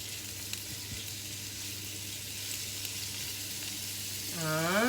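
Prawns and cod fry in a hot pan with a steady, close sizzle throughout, a few small clinks near the start and a brief rising tone near the end.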